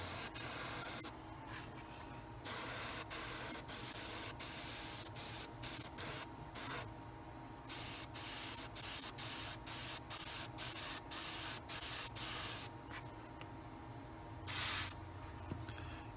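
Airbrush with the paint shut off blows short bursts of air to clear droplets from the tip during model painting, giving repeated quick hisses and soft spray pulses against a quiet background.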